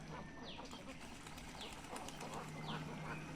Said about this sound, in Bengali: এই যে এই হাঁসগুলা